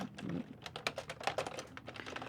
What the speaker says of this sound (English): That's me if you hear the typing.